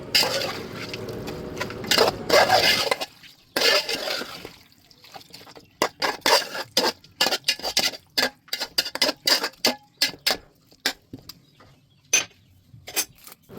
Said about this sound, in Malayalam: ആ മസാല എല്ലാം എല്ലാ ചിക്കനെയും കൂടിയും പിടിക്കാൻ പാകത്തിന് നല്ലതുപോലെ നമുക്കൊന്ന് ഇളക്കി ചേർക്കാം